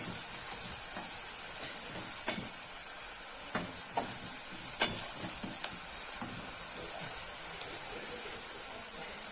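Steady sizzling of onions frying in a pan, a continuous crackling hiss with occasional louder pops and spatters.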